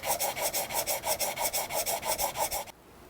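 Steel blade from a vintage hand plane rubbed back and forth on a whetstone to remove machine marks, about fifteen even rasping strokes in a quick rhythm, close and alone, stopping abruptly near the end.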